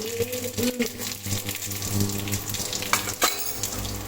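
Mustard seeds sizzling and crackling in hot oil for Gujarati methi dhokla, a continuous close hiss with scattered pops, with a voice speaking over it.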